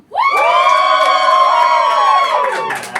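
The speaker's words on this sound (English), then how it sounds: "Give me a cheer if you think Sam won!" A live comedy audience at a roast battle grand final in London roars with sustained cheering, whoops and yells for about three seconds, loud and dense, fading near the end.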